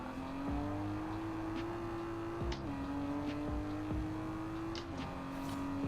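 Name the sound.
500hp Miata engine shifting gears, video game Forza Horizon 4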